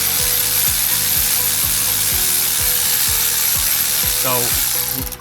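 Ratchet with a 10mm socket clicking in a steady, even rhythm while loosening a bolt on a 2016 Audi A3 TFSI, close and loud over a constant background hiss, with a quicker burst of clicks near the end.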